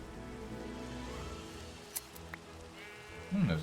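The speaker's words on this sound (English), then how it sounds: "There's a lot of sheep around here" A sheep in Minecraft gives a short, close bleat near the end, over a steady background hum with a couple of faint clicks before it.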